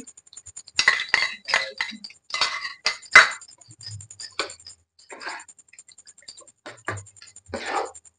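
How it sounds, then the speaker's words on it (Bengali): A spoon scrapes and clinks against a pan while cornflour is stirred into potato gravy for chilli potatoes, giving irregular close scraping and tapping strokes with brief pauses between them. "দিয়ে ভালো করে নাড়িয়ে নেবো আমরা।"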